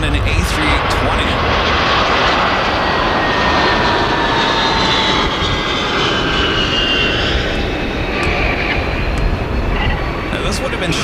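A Boeing 737-300 jet airliner flies over, a steady broad roar that holds loud and constant through the whole stretch, with faint voices behind it.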